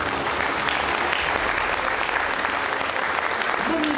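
Audience at a political event in Płock giving loud, dense applause for a nurse being introduced, a continuous close roar of many clapping hands from start to finish.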